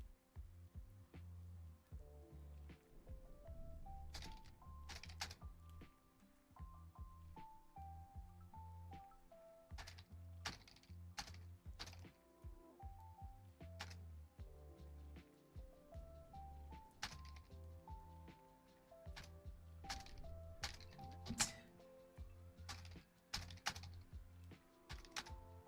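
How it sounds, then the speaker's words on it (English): Steady computer-keyboard typing during a livestream writing session, with clattering keystrokes in bursts and occasional louder key hits, close and fairly prominent over a soft background of music-like tones. "I'm mic down just so he picks up my keyboard more often."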